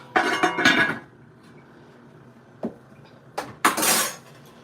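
Kitchen cooking pot for Liberian split pea soup being covered with its lid: a cluster of metallic clinks and clatters, then a lone knock and a final clattering rattle, close and crisp against near silence.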